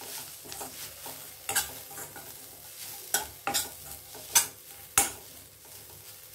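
Vegetables seasoned with chilli powder are stirred in a hot pan, with a soft ongoing sizzle and a series of sharp, separate scrapes and knocks of the spoon against the metal.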